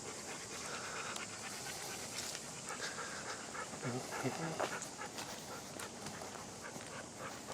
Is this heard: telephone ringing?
no